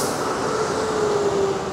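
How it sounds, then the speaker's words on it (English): A train pulls into a railway station at Farnborough with a steady loud rumble and a sustained high wheel or brake tone. No voices are heard. "the train I need, actually, funny enough, is already pulling in"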